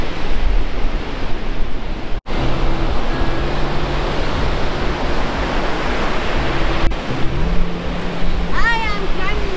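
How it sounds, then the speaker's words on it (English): Strong wind buffets the microphone over steady surf on a Scottish beach, a loud continuous roar with waves washing in, and people talk faintly beneath it. "It's very windy."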